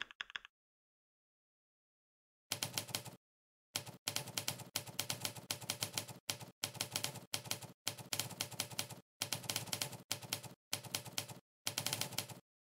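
A typewriter key sound effect plays in a minimal terminal typing test: bursts of rapid, crisp clacks separated by short pauses, quiet and dry, with no talking.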